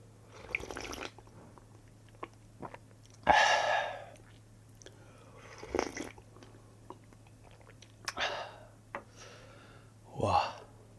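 Close, wet sipping and slurping of beef tallow ramen broth made with brisket, in an eating session: several short bursts of slurps and smacks separated by quiet gaps over a low steady hum.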